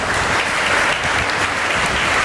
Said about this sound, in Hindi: मैं चाहता हूँ इस बात के लिए एक बार जोरदार तालियां बजे।